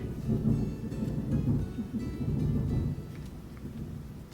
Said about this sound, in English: It's pouring. There's been a ton of thunder.